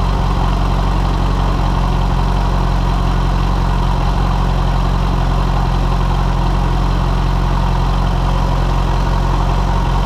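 A 2008 Yamaha FZ6 motorcycle engine idles warm on a dynamometer after throttle body synchronization, giving a loud, steady, unbroken low hum close to the microphone with no talk.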